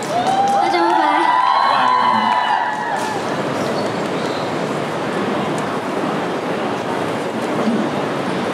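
A crowd at an outdoor Christmas concert in a Taipei Xinyi pedestrian courtyard breaks into sustained applause for a singer after a few seconds of a voice speaking, the clapping dense and steady to the end.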